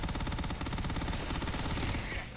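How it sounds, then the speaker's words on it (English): Sustained rapid gunfire from a firefight in Starfield, loud and dense with overlapping automatic bursts that continue without a break before trailing off at the end. "We are opening fire."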